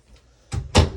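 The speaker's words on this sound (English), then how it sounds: "your slide out up here is for the wardrobe, and then also you have drawers underneath that as well" Wardrobe door or drawer in an RV bedroom, a faint tap followed by two quick knocks as it bumps shut, short and close.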